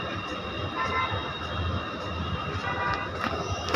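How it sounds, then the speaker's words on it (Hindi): A metro train at a station in Delhi, with a steady broadband rumble and hiss of rolling carriages and a faint squeal near the end, continuous and fairly close, with no talk. "अब यहाँ से हम मेट्रो पकड़ेंगे मंडी हाउस के लिए और आगे बढ़ेंगे"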